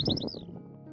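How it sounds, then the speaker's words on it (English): A skylark gives a brief, faint burst of high, warbling song notes, lasting under a second, with no other sounds around it. "skylarks will also sing from perches and from the ground itself"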